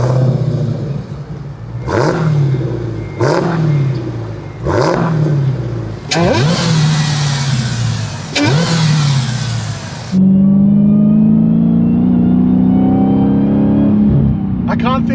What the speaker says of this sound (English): I can't think of a new car on sale today in 2025 that has a supercharger whine like that